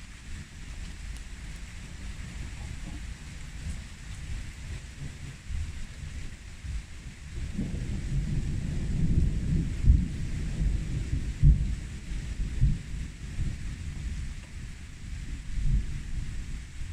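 Thunderstorm with rolling thunder and steady rain, a low rumble that swells partway through and stays loud, with wind buffeting the microphone and no talking.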